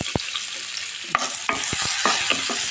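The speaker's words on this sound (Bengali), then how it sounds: "এই দেখেন ফ্রাই প্যানে তেল দিয়ে দিলাম, মাছ ভাজার তেলটাও ঢেলে দিলাম, তারপর অল্প করে তেল দিলাম। এখন পেঁয়াজ কুচিটা দিয়ে দেবো।" Chopped onions hit hot oil in a frying pan, giving a loud, close, steady sizzle broken by sharp clacks of a spatula stirring, with no talking.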